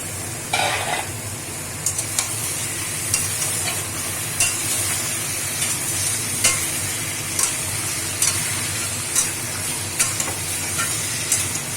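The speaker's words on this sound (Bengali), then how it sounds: "মটনটা দিয়ে কিছুক্ষণ ফ্রাই করবো, তারপর এক এক করে মশলাও দিয়ে দেবো।" Mutton frying in a pan with melted fat for a curry, a steady close sizzle broken by regular scraping stirs of a spoon against the pan.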